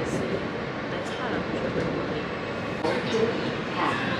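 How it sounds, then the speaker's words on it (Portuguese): A New York subway train rumbles steadily while riding aboard, with a continuous low rolling roar and faint clattering, and people speak over it. "Pegamos o metrô, gente."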